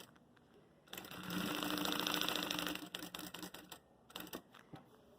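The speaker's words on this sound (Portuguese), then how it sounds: "Aí, a gente costura aqui na beirada, tá?" A sewing machine runs in one steady burst of about two seconds while stitching along the edge of a makeup case, then stops and gives a few short uneven bursts. It sounds close and fairly quiet, with no talking.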